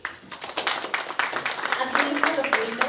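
An audience at a criminal law course claps together, a dense run of overlapping claps that fills the room steadily and grows slightly stronger toward the end.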